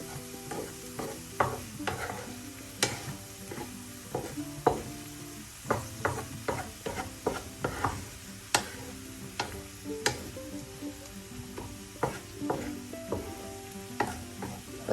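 Snake gourd thoran being stirred in a pan, with a soft sizzle under repeated spoon-and-pan clicks and scrapes, close and steady throughout.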